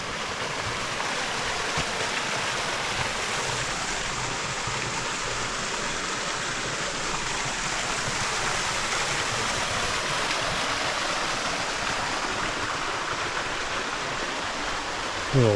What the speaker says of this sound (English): Welcome to Cascade Falls.